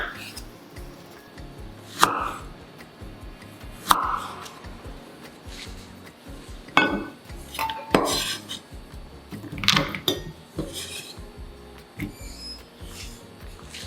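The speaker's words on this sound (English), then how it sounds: "Cut thinly 1 medium carrot." A knife thinly slicing a medium carrot for a sapo tofu seafood dish, heard as a series of sharp, close cuts against a board mixed with clinks of pots and utensils, with no talking.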